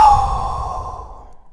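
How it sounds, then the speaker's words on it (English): A person takes a deep breath and lets it out as a long, audible sigh, close and fairly loud, fading away over a second and a half with no speech. "I am going to take another breath."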